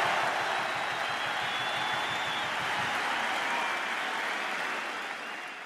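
A large stadium crowd at the 2007 Rugby World Cup in Montpellier, France, roars loudly and continuously with a broad sustained swell that fades slightly toward the end.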